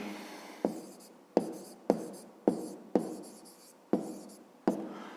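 A pen writes an answer by hand on paper, about eight sharp taps each followed by a short scratchy stroke, close and faint, with no talking.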